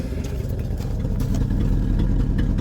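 A 1974 Ford Bumpside pickup's engine idles steadily after a carburetor swap, a close, loud, even low rumble with light mechanical clatter running throughout.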